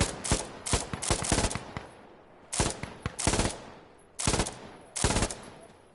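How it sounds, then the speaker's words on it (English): MG42 machine gun fire in the video game Insurgency, heard as several loud, close bursts of rapid automatic shots separated by short pauses, with no talking over them. "Dude, I guess we're good with the MG42."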